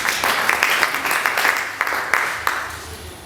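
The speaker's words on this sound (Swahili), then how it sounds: "Piga makofi kwa Yesu" A church congregation at a Sunday service claps together in a loud, steady rhythm of sharp, repeated beats, close and fairly uniform over a few seconds.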